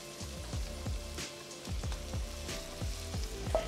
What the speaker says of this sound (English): So I cut the onions already, so I'm going to put them in the pan first.